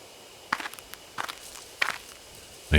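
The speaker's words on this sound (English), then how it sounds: "I hear footsteps again." Footsteps crunch through bushes in the horror video game Death Mark, coming in short rustling clusters separated by pauses, close by and clear against a quiet backdrop, with a final louder step at the end.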